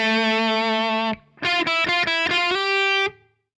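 Electric guitar with a distorted tone plays a single-note lead riff: one long sustained note, a short gap, then a string of clipped, choppy notes and a final held note, loud and close.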